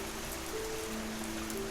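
Steady rain falls in a cartoon scene, a dense, even hiss of drops on a surface continuing throughout, with faint sustained tones underneath and no voices.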